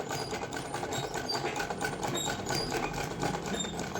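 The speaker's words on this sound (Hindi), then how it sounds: "और अब इसके तीनों तरफ सिलाई लगा देंगे।" Sewing machine stitching the seams of a boys' simple night suit, a steady continuous whirring drone running loud and close for the whole stretch with no talk.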